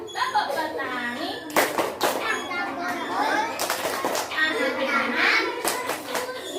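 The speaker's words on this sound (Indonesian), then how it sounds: "Tepuk petani" Schoolchildren in a classroom perform the rhythmic farmer clap, sharp bursts of hand claps falling in a patterned beat, mixed with the children's chanting voices.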